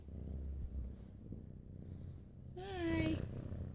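A pet cat purring close by, a low steady rumble lasting the whole stretch, with a brief higher whine or mew near the end.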